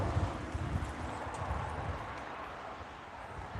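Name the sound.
goats walking, hooves clip-clopping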